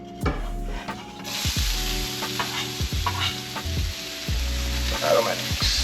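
Aromatics hit hot oil in a stir-fry pan with a loud, steady sizzle, punctuated by repeated scraping and stirring strokes of a utensil against the pan, close up with no talking.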